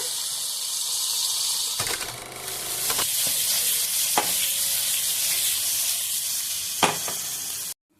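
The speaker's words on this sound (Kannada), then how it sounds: "ಎಲ್ಲ ಪನ್ನೀರನ್ನ ಈ ಥರ ಹಾಕಿ ಸ್ವಲ್ಪ ಫ್ರೈ ಮಾಡಬೇಕು" Cubes of paneer sizzle in a hot pan, a steady close hiss of frying broken by a few sharp clacks and scrapes from stirring, with no voices.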